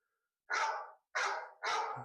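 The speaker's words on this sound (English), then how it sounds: "there's the dog barking." A dog barks three times indoors, each bark loud, full and close, with short gaps between them and nothing else heard.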